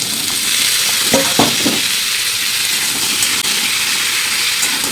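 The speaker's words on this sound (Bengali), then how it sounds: "একটু ভালো করে হালকা করে ভেজে নেবো।" Papaya and potato pieces fry in a wok with a steady, close sizzle, while a few short scraping stirs cut through the hiss near the start.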